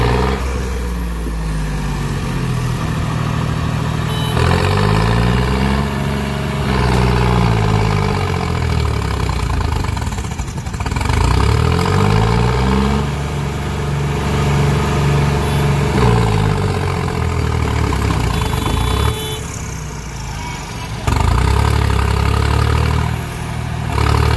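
A tractor engine strains while towing a bore machine stuck in rain-soaked field mud, a loud, close, droning rumble that rises and falls in repeated surges as the load is pulled, with no talking.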